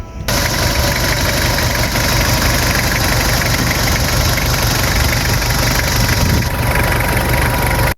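A 1999 Toyota Kijang Krista 2.4 diesel engine idles loudly and close up with the hood open, a steady rough rumble with a rhythmic knocking clatter running unbroken from start to finish.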